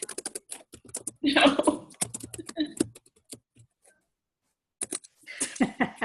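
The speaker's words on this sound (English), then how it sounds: "is that you typing really loudly" Loud typing on a computer keyboard during a team conference call, with rapid, crisp, close key clicks in bursts, a voice talking between them, and a brief silent gap.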